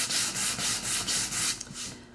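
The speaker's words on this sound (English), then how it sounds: "So I'm gonna use my lighter grit sandpaper." Light-grit sandpaper rubbing over a painted round wooden door hanger, a close, steady rasp in quick back-and-forth strokes of about eight passes, then slowing and stopping near the end, with no talking.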